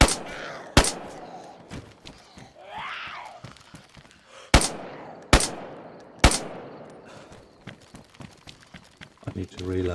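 Several sharp gunshots from the DayZ video game ring out as isolated, loud cracks spread across the stretch, mixed with game ambience and a voice speaking.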